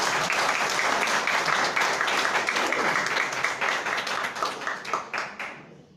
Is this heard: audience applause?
yes